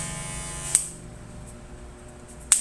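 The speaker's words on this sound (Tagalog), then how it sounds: "Maririnig nyo naman siguro yung tunog ng clipper." A steady electric hair clipper buzz hums throughout, with two sharp clicks standing out, one early and one near the end.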